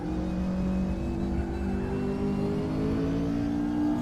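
A race car engine in the RaceRoom racing game drones steadily and loudly throughout, its pitch slowly climbing as the car accelerates, with no voices.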